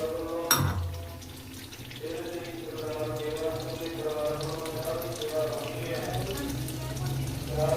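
Water is poured into a pan of cooking peas and paneer, a steady splashing wash that runs throughout after a sharp clatter near the start, with faint voices in the kitchen.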